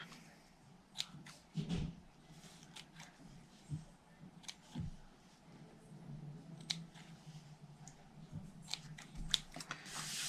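Scissors snip through a paper milk carton in a few separate quiet cuts, with small handling rustles in between and no speech.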